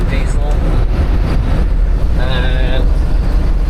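Wind buffets a microphone on a bumpy, windy road trip, a loud continuous rumble with some tonal whine in the background.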